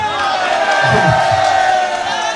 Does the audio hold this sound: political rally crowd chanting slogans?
yes